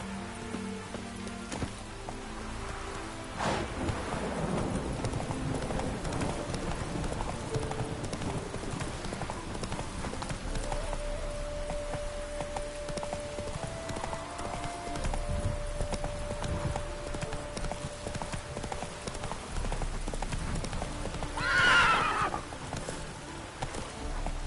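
Horse hooves clip-clop steadily at a gallop in The Witcher 3, with occasional neighing and light rain in the background and game music underneath.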